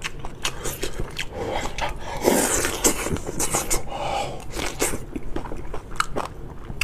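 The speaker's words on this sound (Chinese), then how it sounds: "海葵，学名海葵啊，哇，嘎嘣嘎嘣脆，真好吃" Cooked sea anemone being bitten and chewed close to the mouth, a run of crisp, crackling crunches in irregular rhythm, loud and near, with a little background noise between bites.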